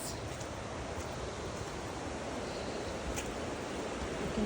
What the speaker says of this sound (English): You can hear the waterfall.